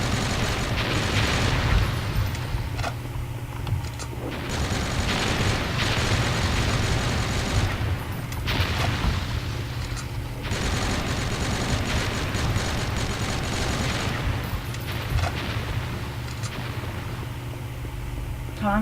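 Rocket launcher fire and explosions in the FireShot video game, a dense, continuous barrage of blasts and booming impacts that runs loud throughout with no pauses.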